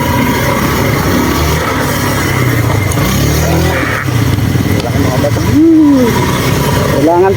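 A motorcycle rides along a rough dirt road, its engine droning steadily and loudly close by with shifts in pitch, while people talk over it.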